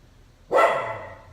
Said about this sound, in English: Please excuse my dog in the background.